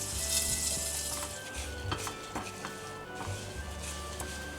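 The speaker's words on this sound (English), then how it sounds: "and we let it fry" Teriyaki salmon fries in a covered pan over medium heat, a steady close sizzle with soft crackles and occasional light utensil clicks, no talking.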